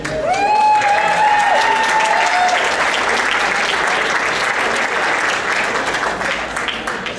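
An audience gives a basketball team loud, sustained applause that fills the whole stretch, with a few whistles rising above the clapping near the start.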